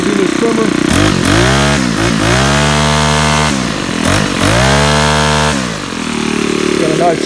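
A 2-cycle gas string trimmer with a straight shaft runs loud and close, its engine revving up and down repeatedly between steadier stretches of buzzing idle.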